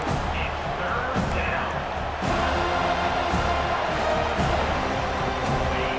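A stadium crowd roars and cheers before a big third down in the video game EA Sports College Football 25, a broad, constant wash of noise that swells slightly partway through.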